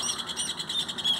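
Rufous hornero birds singing in misty pampa countryside, a dense high chattering trill of overlapping chirps heard at a moderate distance, steady throughout with no voices.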